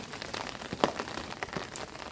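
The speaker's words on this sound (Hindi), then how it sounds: "तेज़ बारिश हो रही है" Heavy rain pours down at night in Delhi, a steady dense patter of drops on surfaces with scattered louder splats, close and continuous, and no voices over it.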